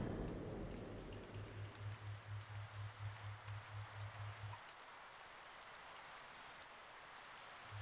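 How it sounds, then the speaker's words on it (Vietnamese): Steady rain falls as a broad, even hiss throughout, with a low rhythmic hum under the first half that cuts off partway through, leaving only the rain. "Lại mưa rồi."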